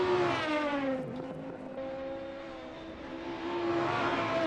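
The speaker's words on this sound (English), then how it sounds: "Oh, the cars sound fantastic." Touring race cars lapping Brands Hatch in a sim racing game, engines revving high and shifting pitch as they accelerate through a bend, loud and close with a brief lull before climbing again.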